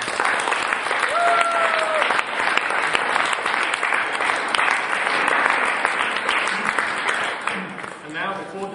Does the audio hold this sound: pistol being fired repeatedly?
no